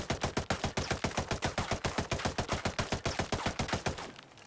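A sustained burst of rapid automatic assault rifle fire in the video game Ghost Recon Breakpoint, each shot distinct with a thudding punch at a steady rhythm, stopping abruptly near the end.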